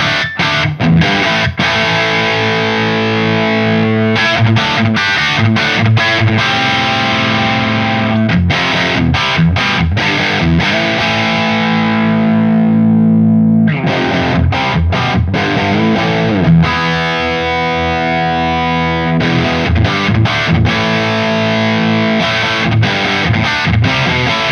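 A distorted electric guitar played through a Synergy 800 amp on its treble setting rings out in loud, sustained crunchy chords broken by choppy strummed bursts and a long held note, close and alone.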